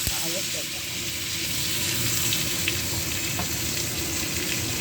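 Bitter gourd frying in groundnut oil with fennel seeds and masala, a loud, constant sizzle and hiss with an occasional stirring scrape, close and continuous.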